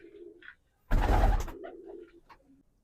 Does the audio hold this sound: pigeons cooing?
yes